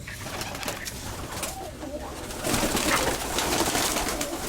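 Soft pigeon cooing, low and murmuring, partly buried under loud, continuous rustling noise that grows stronger toward the end.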